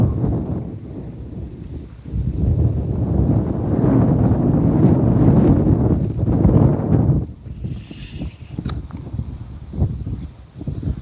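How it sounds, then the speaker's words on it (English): Heavy wind buffeting the microphone in low, rumbling gusts that swell and ease at Graham Lake, Maine, with a lighter rustle toward the end. "Very windy here today."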